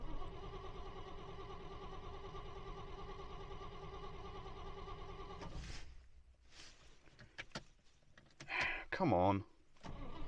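A Rover P6 V8 with an automatic gearbox and an ailing engine cranks steadily for several seconds with a rhythmic whirring drone, then stops without catching, followed by scattered clunks and a brief voice.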